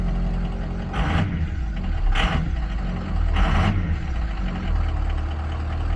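A 2003 Ford F350 work plow truck with a 6.0 Powerstroke diesel running after an IPR replacement, a loud, rough, steady idle close by, broken by three short hissing bursts spaced about a second apart.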